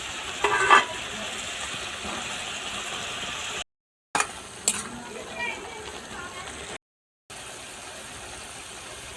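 Marinated small fish hitting hot oil in a pan for a village-style Bengali chorchori, a steady frying hiss with a few sharp crackles near the start, broken by two short silent gaps.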